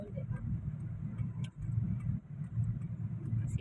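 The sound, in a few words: car traffic on a busy Manila street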